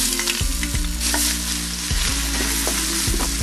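Ginger garlic paste fries in oil with cinnamon, mace, star anise, cloves, cardamom and bay leaves for chicken biryani, a loud dense sizzle with a low steady hum running underneath.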